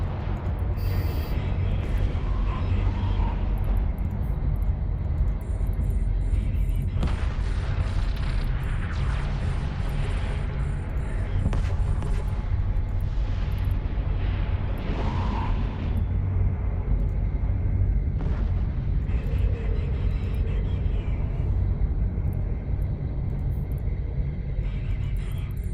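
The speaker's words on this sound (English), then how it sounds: "I think they deserve some missiles." A missile barrage in EVE Online, a continuous loud low rumble with repeated muffled explosive bursts and whooshes rising over the drone throughout, with no talking.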